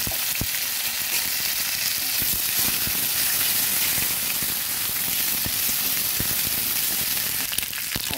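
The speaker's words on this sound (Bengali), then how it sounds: "আদা বাটাটা কিছুটা ভাজা হয়ে এসেছে" Ginger paste frying in a pan for a vegetarian chana dal, a steady close sizzle and crackle with scattered sharp pops throughout, no voices.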